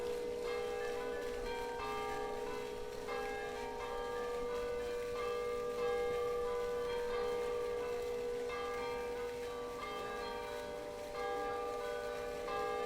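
Church bells ring out over the Saint-Sernin neighborhood of Toulouse on an evening around seven, a steady, continuous peal of sustained tones that carries through the whole stretch without pause.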